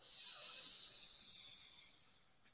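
A long, slow breath exhaled through the mouth during a waist-cinching breathing exercise, a soft airy hiss that is strongest at the start and fades away over a couple of seconds, heard alone.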